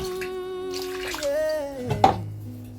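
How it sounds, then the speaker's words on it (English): Water is poured into a pot of festive home-cooked soup, a short splashing burst near the end that rises over a steady tonal background hum. "Add your water,"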